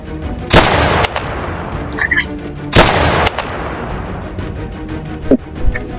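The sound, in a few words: gunfire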